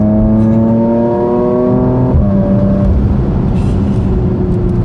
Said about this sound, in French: en mode sport, on a donc automatiquement l'échappement sport qui s'active tout seul